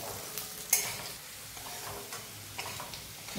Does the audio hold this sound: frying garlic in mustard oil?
yes